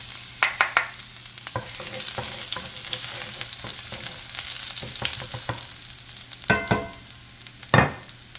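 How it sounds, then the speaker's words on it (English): Garlic frying in hot vegetable oil in a pan over medium-high heat, a steady crackling sizzle with scattered pops and several louder spatula scrapes, close and clear. "So I heat my pan on medium to high, and I'm gonna add my garlic"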